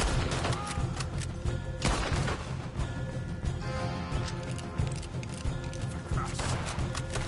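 Horses gallop in Red Dead Redemption 2, with loud, dense hoofbeats mixed with gunfire and crashing during a chaotic fight around a supply wagon.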